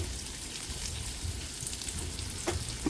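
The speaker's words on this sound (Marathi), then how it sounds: "ते सुद्धा आता आपण मस्त तेलामध्ये परतून घेणार आहे." Two medium onions are sautéed in oil with garlic for a Marathi radish dish, a low, even frying hiss with occasional soft stirring taps near the end, close and without speech.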